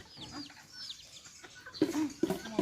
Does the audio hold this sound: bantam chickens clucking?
yes